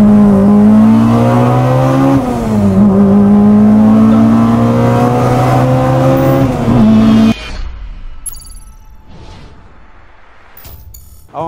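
A 2000 Honda Civic SiR fitted with a K20 Integra Type R engine revs hard and loud for about seven seconds, its pitch rising and dipping, then cuts off abruptly to quiet background.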